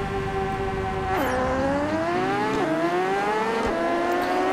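Motorcycle engines in the RiMS Racing video game rev loudly at a race start on a wet road, the pitch dropping as gears shift and then climbing again in rising steps.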